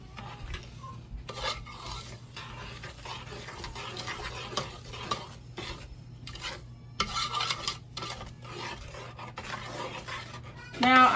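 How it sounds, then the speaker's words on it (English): A homemade fudge mixture of sugar and heaping spoonfuls of cocoa is stirred in a pot, giving a steady scraping and swishing that comes in bursts with short pauses, close and moderately loud, with a clink at the end. "And then I'm gonna mix all this up."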